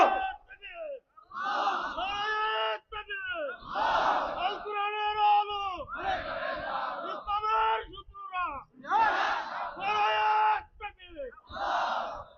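A large crowd at an outdoor Islamic sermon in Gazipur shouts takbir in loud, ringing unison, rising and falling in repeated bursts with short gaps between them.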